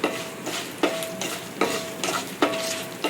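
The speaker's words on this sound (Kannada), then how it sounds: "ಚೆನ್ನಾಗಿ ಫ್ರೈ ಮಾಡಿ." Urad dal and cumin frying in hot oil for a sweet pumpkin gasi, a steady close sizzle broken by four sharp stirring scrapes of a spoon in the pan, no voices.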